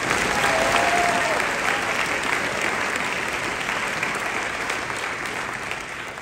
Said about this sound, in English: round of applause for our private teachers